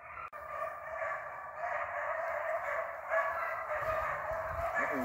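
Fox beagles, a pack of hunting dogs, bay on a trail somewhere off in the distance, their repeated cries carrying faintly over a steady outdoor background hiss.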